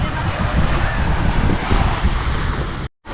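Sea waves at Cabo da Roca, a loud continuous wash of surf mixed with gusting wind buffeting the microphone, cutting out briefly near the end.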